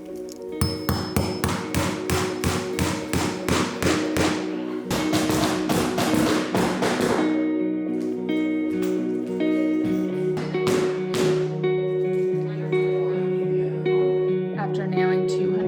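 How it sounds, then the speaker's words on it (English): Old iron nails are hammered into wooden floorboards, a close run of sharp, ringing metallic blows in quick rhythm that thins to scattered taps with lingering ring. "We found these really cool old iron nails, and we're going to put these in all the floorboards."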